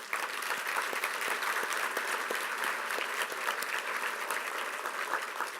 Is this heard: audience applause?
yes